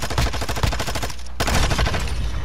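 Rapid automatic gunfire from the Call of Duty Modern Warfare 2 video game rattles in a dense, fast burst, loud and close, with a brief pause before the firing resumes.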